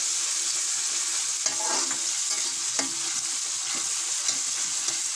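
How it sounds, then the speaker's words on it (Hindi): Garlic, ginger and green chili paste fries in a pan, giving a steady bright sizzle with occasional scraping stirs and light pops. No voices are heard. "और अब इसमें हमने लहसुन अदरक और हरी मिर्च का पेस्ट ऐड कर दिया है। इसको हल्का फ्राई होने देंगे"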